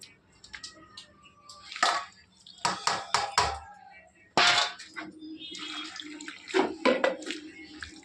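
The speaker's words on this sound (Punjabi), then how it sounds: "ਫਿਰ ਪਾਣੀ 'ਚ ਪਾ ਕੇ ਧੋ ਲਵਾਂਗੇ" Cut taro root being washed in water by hand, with close splashing, rubbing and sloshing in irregular bursts and a few knocks of a metal vessel, loud and near.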